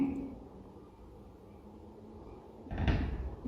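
A locked door is rattled and knocked in a Thai haunted-house game, a short burst of loud clattering near the end after a quiet stretch of faint background noise.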